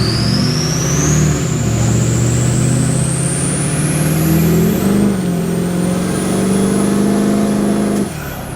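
A diesel truck fitted with a 68 RDS turbo idles and revs loud and close, a deep steady engine drone with a rising turbo whistle spooling up, then the revs settle near the end.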